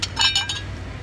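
A glass butter dish clinks as it is handled, giving three or four quick, bright, close clinks before fading into quiet room noise.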